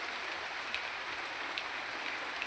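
Steady rain pours over a flooded home yard where water has pooled like a pond, a continuous close hiss of drops with occasional slightly louder patters and no voices.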